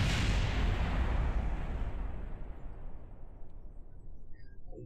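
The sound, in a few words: small explosions in Kerbal Space Program video game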